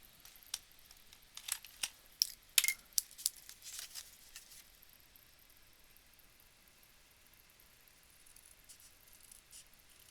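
A few sharp, quiet snips and clicks of scissors trimming a thin sliver from paper for a summer craft, clustered over a couple of seconds, then near silence.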